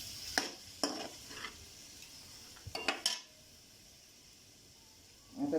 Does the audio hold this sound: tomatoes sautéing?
yes